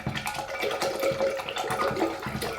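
Water splashes and trickles steadily as a $12 round synthetic sable paintbrush is swirled to soften it, a close, continuous wet sound with small irregular sloshes and no talking.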